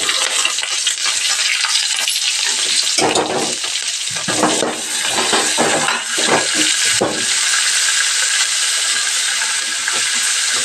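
Fresh curry leaves, chopped onion and tomato fry in a hot pan with a loud, continuous hiss and sizzle, broken by a few stirring scrapes partway through.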